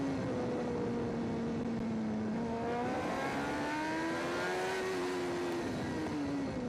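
A racing motorcycle at the Macau Grand Prix practice session drones loud and steady, its engine pitch sliding down as the rider shuts off the revs for the bends, then climbing again.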